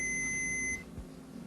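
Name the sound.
continuity tester buzzer beeping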